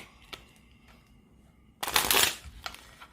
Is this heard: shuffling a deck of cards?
yes